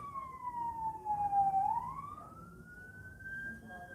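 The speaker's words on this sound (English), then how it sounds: "the siren" A single siren wails with a falling then rising pitch sweep, moderately loud over low traffic rumble, no talking.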